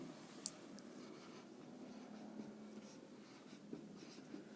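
A pen scratches across paper in soft, intermittent strokes during a Class 10 geometry lesson, faint and close, with one sharp tap and no talking.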